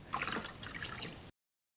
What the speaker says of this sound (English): I'm just gonna start it up and let it pump the water into the block.